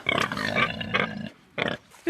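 A local black-bottomed pig breed raised outdoors near Ségur-le-Château in France grunts several times at close range, with rough bursts separated by short pauses.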